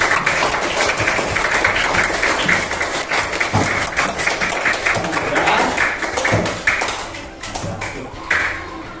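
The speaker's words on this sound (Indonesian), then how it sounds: "mari kita tepuk tangan untuk kita semua ya" A group claps together after classroom presentations during a teaching practice session, a dense, steady patter of hands that runs throughout and thins slightly toward the end.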